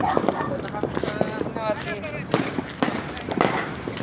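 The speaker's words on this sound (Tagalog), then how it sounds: "Fireworks. Fireworks kami." Sharp cracking pops of firecrackers go off repeatedly in an irregular burst at a New Year celebration, with people talking and shouting over the noisy outdoor scene.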